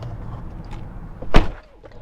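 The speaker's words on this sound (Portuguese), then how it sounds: "Vou abrir a porta" A car door is opened inside a parked car at the end of a drive, giving one sharp, close thunk-and-click over quiet cabin hum, with faint rustling just before it.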